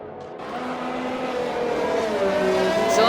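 XRL racing cars duel on a street circuit in Singapore, engines rising in a whining, accelerating pitch sweep that grows louder as the cars draw near.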